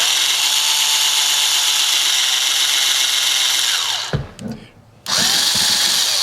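A cordless power drill with a nearly dead battery, drilling out rivets on a Hot Wheels die-cast car, whirs steadily at high speed, then cuts out briefly with a faltering, sputtering sound before spinning up again, loud and close.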